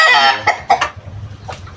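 A chicken squawks loudly up close, a short agitated burst of clucks fading into low background noise.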